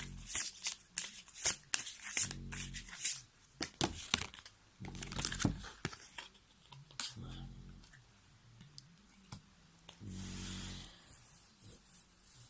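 Tarot-style cards shuffled during a card reading, repeated bursts of riffling and flicking with soft clicks and pauses between, close and quiet, no talk.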